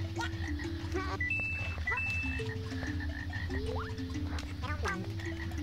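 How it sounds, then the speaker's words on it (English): A frog enemy in the Yoshi's Story video game croaks repeatedly in deep, twangy calls with rising sweeps, set over steady game music and ambience that continue throughout. "Scary frog."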